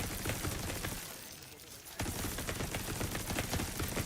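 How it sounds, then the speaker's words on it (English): Rapid turret gunfire from the video game The Division 2, dense crackling bursts fired close and loud, easing off briefly in the middle before a sharp fresh volley resumes steadily to the end. "shoot me with the turret now"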